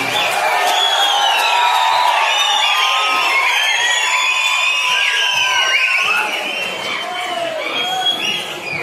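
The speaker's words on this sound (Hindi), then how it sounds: "जोरदार तालियां इनके लिए" A crowd at a district-level folk dance competition in Shimla cheers loudly with whoops and shouts, a dense, sustained roar that eases slightly toward the end.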